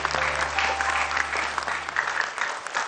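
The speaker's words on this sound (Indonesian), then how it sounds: "tepuk tangan dulu dong untuk 5 peserta kita" Steady applause from a studio audience at a Quran memorisation contest fills the whole stretch, dense and continuous clapping at close range.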